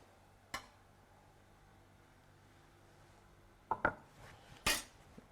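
A spoon scoops mascarpone sauce over pan-seared prawns, a quiet room with a single clink early on and then a few sharp, close clacks of metal against a dish near the end.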